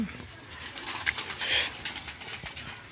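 Giribaz pigeons coo softly while being fed, a low burbling chorus under a voice talking nearby, with scattered sharper bird notes.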